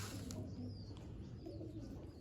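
Low, rolling coos from kept pigeons, including a red cock and red hen, murmur continuously nearby, with a faint chirp or two above the steady hum.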